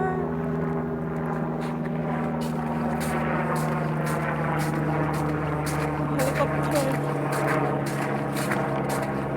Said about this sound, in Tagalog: helicopter ay helicopter